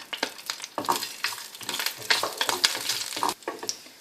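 Tomato masala paste frying in two tablespoons of oil for a Bengali chicken roast, close sizzling with repeated scraping stirs of a spoon in the pan, no one speaking.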